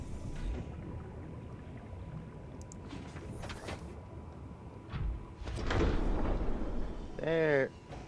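In the underwater game Subnautica, vehicle engines start with faint mechanical clunks and clicks that build into a swelling whooshing roar. A short vocal sound comes near the end.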